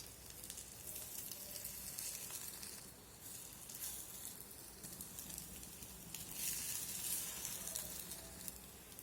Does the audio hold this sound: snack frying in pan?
yes